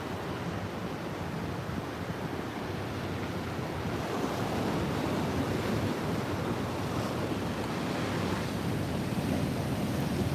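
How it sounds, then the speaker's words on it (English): Ocean surf rolls onto the coast on a bright morning of big swell, a steady, full roar of breaking waves mixed with wind rumble across the microphone, continuous and fairly close, with no voices. "With some nice waves."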